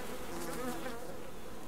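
Bees droning in the survival game Subsistence, a continuous buzzing hum with slight wavering pitch, steady and fairly close, with no talk over it.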